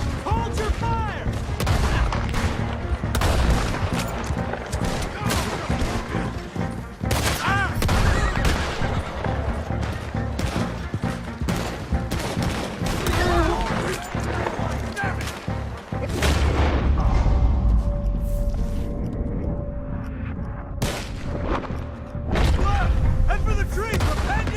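Sustained gunfire in a Red Dead Redemption 2 shootout, loud overlapping rifle and pistol shots with booming reports in dense volleys, while voices shout over the battle.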